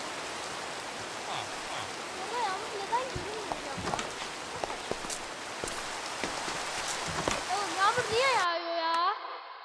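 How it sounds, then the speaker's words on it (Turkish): Steady video game rain in Minecraft patters and hisses throughout, with a few sharper splashy hits, before cutting off abruptly near the end into quieter tonal sounds. "ben yağmurun dinmesini bekliyorum"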